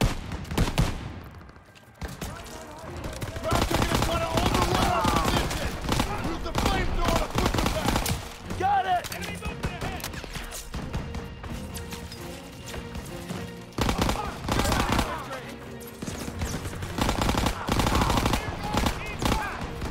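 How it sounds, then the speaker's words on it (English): Sustained machine gun and rifle fire in a Call of Duty WWII battle, dense bursts and volleys rattling almost continuously at close range, with shouted voices mixed into the chaos and a brief lull near the start. "Suppressive fire! Keep firing!"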